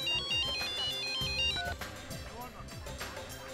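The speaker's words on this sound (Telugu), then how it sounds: "మీ ఫోన్ రింగ్ అవుతుంది." A phone's melodic ringtone plays loudly and repeatedly in a TV crime drama scene, with a voice speaking over it.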